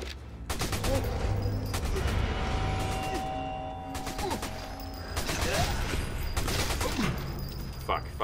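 Bursts of rapid machine gun fire ring out in the shooter game Sniper Elite 4, loud and close, coming in several long volleys over mechanical background noise.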